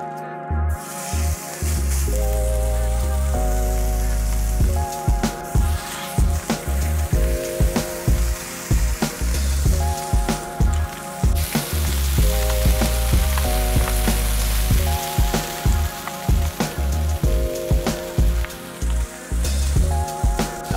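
Burger patty frying in a hot pan for an In-N-Out style Double Double Animal Style burger, a steady broadband sizzle running under louder tuneful background music for the whole stretch.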